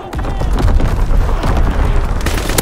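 A heavy artillery blast in a World War II shooter game, a loud sustained rumbling boom with crackling debris that fills the whole moment, close and dense.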